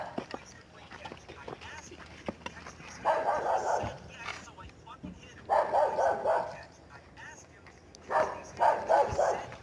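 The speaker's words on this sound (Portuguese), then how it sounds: "Parece que é só quando é a gente só, o cachorro começa a latir." Dogs bark in short bursts at a campsite with a campfire and tent, three rapid volleys spaced a few seconds apart, fairly distant, while people whisper and talk quietly in between.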